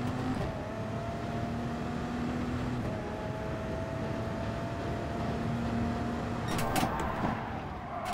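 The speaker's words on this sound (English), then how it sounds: "Loving the engine sound." Race car engine in the video game Gran Turismo Sport hums at a steady pitch, shifting gear once, continuous and moderately loud, with a brief clatter near the end.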